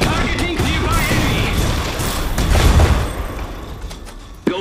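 Gunfire from an Iron Harvest battle: dense, continuous volleys of shots and booms mixed with explosions, loud throughout and swelling midway, with unit voice lines under the din and a sharp crack near the end.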